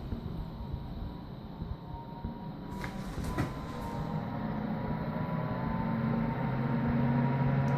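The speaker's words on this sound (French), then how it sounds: "Là, si je déploie sa puissance ventilo" PC fan running at full power in a bedroom under renovation, a steady broadband whooshing hum that builds slightly louder toward the end, with a couple of brief clicks partway through.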